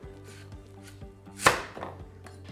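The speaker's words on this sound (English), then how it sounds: "So this one also I'm gonna cut in half." A knife chops butternut squash on a board, giving a handful of firm thuds at an uneven pace and one louder crunching cut through the flesh, close up with no talking.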